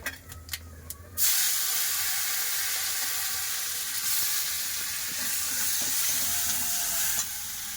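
Black cumin and chopped tomatoes hit old oil in a wok and set off a sudden, loud, steady hiss and sizzle. A few clinks come first, and the frying holds evenly after that.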